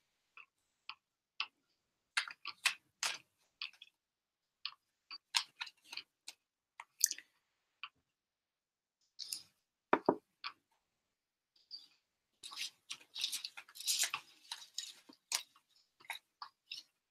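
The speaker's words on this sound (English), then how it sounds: "I'm just shuffling the cards" Tarot cards are shuffled up close, irregular soft clicks and flicks scattered across the stretch, thickening into a denser riffling burst near the end, with no speech.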